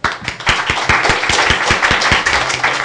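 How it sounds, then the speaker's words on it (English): Audience applause for speakers at a members' event on Brexit: dense, steady clapping from a crowd throughout, with sharp individual claps standing out near the front. "Please join me in giving a round of applause to our distinguished speakers."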